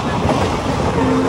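A local train rolls along with a loud, continuous rumbling roar of wheels and carriage noise, close and steady throughout a brief moment.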